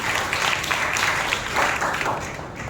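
A church congregation claps together during a Sunday sermon, a dense, steady patter of many hands that carries on for a few seconds at a lively level.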